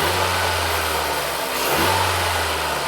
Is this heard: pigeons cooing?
no